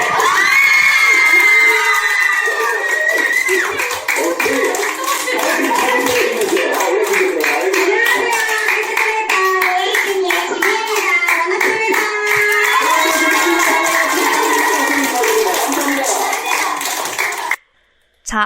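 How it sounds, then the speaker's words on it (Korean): Children cheer, shout and clap loudly as a career mentor makes an entrance, with excited high voices and steady applause throughout before a brief drop near the end. "지금부터 더 뜨거운 박수 좀 부탁드리겠습니다"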